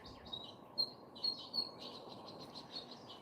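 A loud bird calls outdoors near a family palm tree, a run of sharp, high chirps in uneven bursts over a constant low background hiss, with no one speaking.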